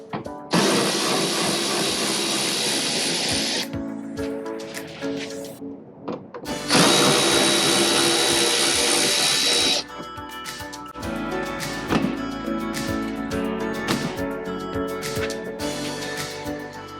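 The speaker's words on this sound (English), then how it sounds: "Got a T20, and that's what's needed to take out those little screws right there." A small T20 Torx driver backs out little trim screws on a VW rear hatch trim panel. Two long, steady bursts of whirring drive separated by a pause, then lighter rattling and handling noise follow.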